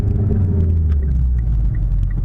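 Mitsubishi Lancer Evolution engine rumbling steadily from inside the car while shifting from second to third with a rev match, a loud, continuous low drone with no talking.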